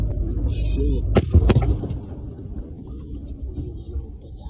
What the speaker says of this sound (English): here's the video of this explosion